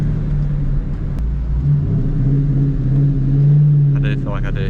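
A Mustang fitted with a JLT cold air intake drives through town, its engine a steady low rumble from inside the car with a mild swell in revs, and someone speaks briefly over it near the end.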